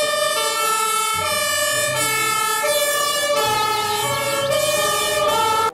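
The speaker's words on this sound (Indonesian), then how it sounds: "Muncullah mobil" Toy fire truck siren wailing continuously and loud, a steady electronic two-tone emergency sound with shifting pitch bands that runs the whole time without pause.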